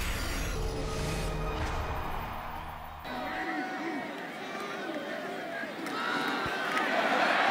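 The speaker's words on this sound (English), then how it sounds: "Crowd loud at Lane Stadium" A roaring college football crowd at Lane Stadium during Marshall vs Virginia Tech, a loud, continuous wash of cheering and yelling that swells near the end. A commentator talks over it.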